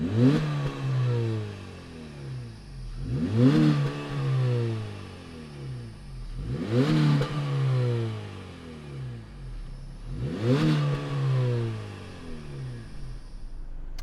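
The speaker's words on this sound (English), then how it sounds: "why don't we go ahead and fire up this inline 4 2-liter and see what it sounds like" The inline-4 2-liter engine of a 2019 Honda Civic Sport is revved four times in a steady pattern, each blip climbing quickly then falling back to a smooth idle, heard close with no talking.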